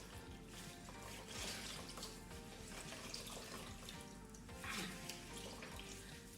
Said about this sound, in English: But now your clothing should be completely soaked. So you just need to pull it out and squeeze it out.